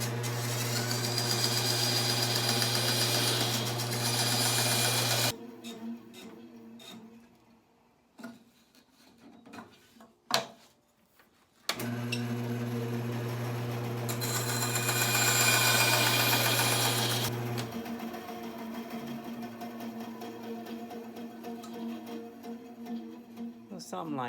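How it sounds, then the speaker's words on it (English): A jigsaw cutting out a wooden crossbow trigger part, buzzing loudly in two long bursts separated by a quiet gap with a few clicks and handling knocks. "So I'm going to just take a jigsaw and cut this out."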